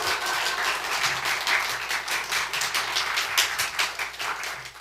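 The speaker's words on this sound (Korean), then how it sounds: "여러분, 우리 정태호 선교사님 나오실 때 큰 격려와 환영의 박수 부탁드리겠습니다" A church congregation claps steadily to welcome a missionary coming forward, a full, sustained round of many hands with an even rhythm throughout.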